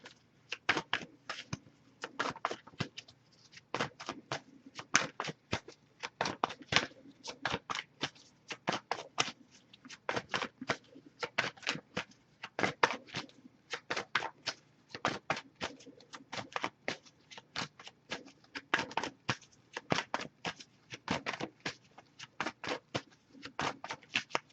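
A deck of oracle cards is shuffled over and over at close range, with quick papery riffle bursts repeating in an uneven rhythm and no talking.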